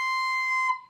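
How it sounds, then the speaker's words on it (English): A recorder gives a single shrill, piercing squeak, held steadily for under a second before fading, caused by finger holes that are not fully covered. "If you have a high noise that sounds like this,"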